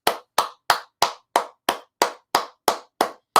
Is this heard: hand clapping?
yes